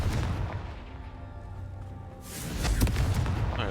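A Confringo fire spell explodes in the Hogwarts Legacy video game, with a deep rumbling blast that rolls on and then swells into a second sharp, crackling burst with heavy low-end boom.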